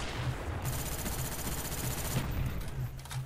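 Rapid automatic gunfire from a first-person shooter match in Call of Duty: Black Ops on PC rattles in quick repeated bursts, loud and continuous with dense shots and game ambience throughout.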